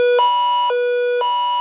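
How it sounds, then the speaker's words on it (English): An Emerson EWR850 weather radio sounds its 1990s alarm-clock-style siren, a loud, steady electronic tone that alternates between a lower and a higher pitch roughly every half second, close and alone. "It's got the 90s alarm clock siren on it."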